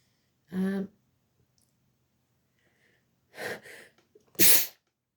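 Three sharp sneezes, close and loud: one on its own, then a pair after a pause, the last the strongest, with quiet breathing between.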